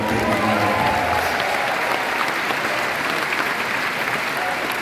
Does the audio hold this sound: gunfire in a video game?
no